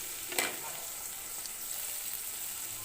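About ten crushed garlic cloves sizzle steadily in hot sunflower oil, a close, continuous frying hiss with a brief stir-like clatter near the start and no talking.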